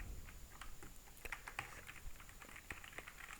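Computer keyboard keys tapped in an irregular run while a folder name is entered, light clicks scattered across a few seconds, close and fairly quiet with no talking.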